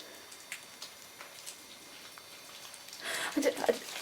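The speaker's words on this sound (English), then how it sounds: "It's just rain." Rain pattering during a night vigil inside the old Bodmin Moor Gaol, faint and steady at first, then swelling into a louder burst of drops near the end.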